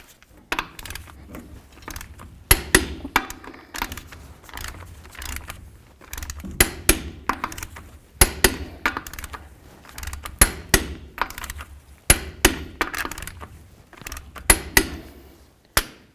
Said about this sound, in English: Now it's time to torque these lug nuts to 120 foot-pounds.